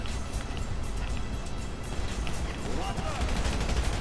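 Gunfire in Grand Theft Auto V, with dense bursts of shots over a rumbling game soundscape, fairly loud and continuous with a voice speaking over part of it.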